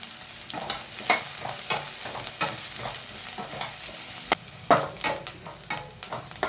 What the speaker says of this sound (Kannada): ಇದನ್ನೀಗ ಸ್ವಲ್ಪ ಚೆನ್ನಾಗಿ ಫ್ರೈ ಮಾಡ್ಕೊಳ್ಳೋಣ. ಆನಿಯನ್ನು ಸ್ವಲ್ಪ ಚೆನ್ನಾಗಿ ಫ್ರೈ ಮಾಡ್ಕೋಬೇಕು.